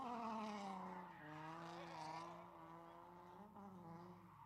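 A Nissan 350Z drifting, its tires squealing in a sustained, wavering screech over a droning engine, loud and continuous with no voices.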